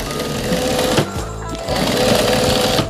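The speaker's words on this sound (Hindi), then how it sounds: "ऊपर नीचे दोनों तरफ सिलाई कर लेंगे।" Sewing machine stitching fabric for a dhol carrying bag, a loud rapid mechanical whirr of needle strokes running continuously with a brief pause and restart in the middle.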